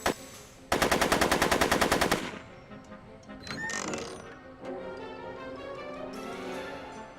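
Rapid machine-gun fire in the Back to the Future video game rattles loudly in a burst of about a second and a half, followed by mechanical clanks and game sound effects.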